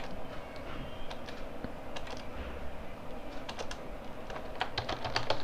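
Steady typing on a computer keyboard while writing web application code, a continuous run of close, light key clicks with no talk.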